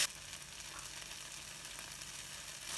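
Tomato bacon jam simmering in rendered bacon fat, giving a steady, close, broadband sizzle and crackle that holds evenly throughout with no talking.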